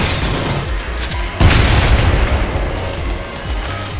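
A plasma gun firing in the retro-style shooter Selaco, with enemies bursting apart: a loud booming blast around the middle over a roaring, rumbling bed of weapon and explosion noise.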